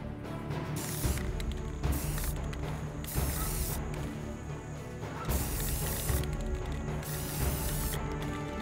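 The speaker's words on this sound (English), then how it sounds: "I'll just use a black spray can for this." Black spray paint hisses from an aerosol can onto masked acrylic in steady bursts with brief pauses between them, fairly quiet and close, with no voices.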